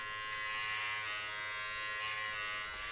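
Steady high-pitched buzzing of electric hair clippers running close by, constant and fairly quiet, with no talking.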